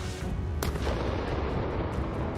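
Explosion from an FPV drone attack, a sharp broadband boom that rolls into a loud, sustained rumble and crackle, with no voices.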